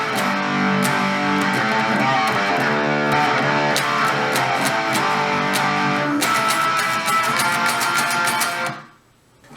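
Electric guitar playing the two chorus riffs of a song, each once in succession, dense and loud with distorted chords throughout before stopping sharply near the end.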